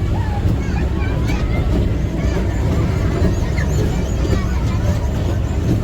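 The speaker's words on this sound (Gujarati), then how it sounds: "ટ્રેન હવે ચાલુ થાય છે" A toy train ride at a village fair rumbles along steadily while a crowd chatters and voices talk nearby throughout.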